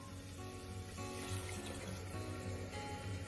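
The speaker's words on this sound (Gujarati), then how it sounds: "તો અત્યારે મેં 2 કપ પાણી એડ કર્યું છે" Water poured into a pan of chickpea curry for chole, a steady continuous rush and splash heard close up with no talking.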